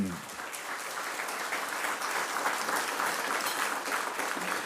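An audience at a Houston corporate gathering claps steadily throughout, a dense, continuous patter of many hands filling the room at moderate loudness, with no voices over it.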